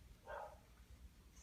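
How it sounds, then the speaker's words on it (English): A single short dog bark sounds from a distance, muffled and fairly faint, against a quiet background. "Sorry about the dog barking."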